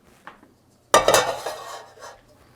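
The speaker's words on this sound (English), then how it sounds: "start sauteing our mushroom" Mushrooms go into a hot pan for sautéing with a sudden clattering burst of sizzle that fades over about a second. Quiet pan knocks come just before and after.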